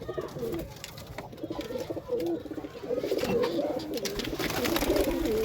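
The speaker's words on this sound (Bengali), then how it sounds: "এখানেও কবুতর আছে" Pigeons coo in a loft with nesting chicks, a run of low, throaty, rolling calls close by, growing louder and more overlapping toward the end.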